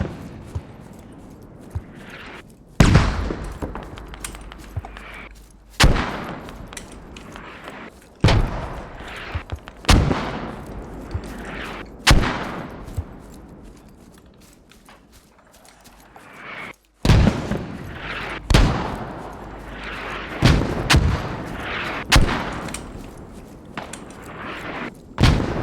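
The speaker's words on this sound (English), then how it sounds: "Mortar strike." Mortar strike explosions and gunfire from the game Squad: heavy booms land one after another at irregular intervals, with sharp shots between them and quieter rumbling gaps.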